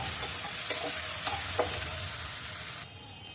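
Ginger, cumin and green chillies fry in oil and are stirred, giving a constant sizzling hiss. A few distinct spatula scrapes and taps cut through it, and the sizzle drops off sharply near the end.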